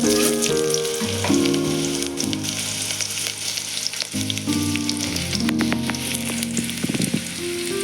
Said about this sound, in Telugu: ఆయిల్ అయితే హీట్ అయిందండి. కొన్ని ఉల్లిపాయ ముక్కలు వేస్తున్నాను.